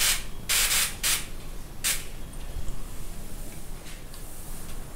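Several short hissing spray bursts of ghee into a pan come in quick succession, followed by a fainter one, over a quiet background.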